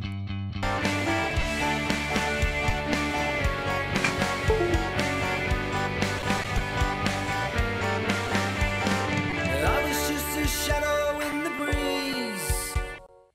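Stock active bass guitar played through an Ampeg SVT amp simulation and cabinet, a rhythmic bass line alongside a full band mix with drums, ending as the music cuts off.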